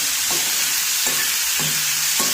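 Chow chow (chayote) pieces fry in hot oil with a loud, steady sizzle, as a spoon stirs through them in four evenly spaced scraping strokes, with no voices.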